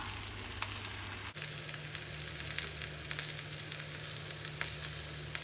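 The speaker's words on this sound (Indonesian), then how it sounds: "Lalu masukkan tofu yang sudah digoreng." Already-fried tofu dropped into a hot pan, giving a steady, dense sizzle that continues without break and stays fairly close, with a slight shift partway through as the pieces go in.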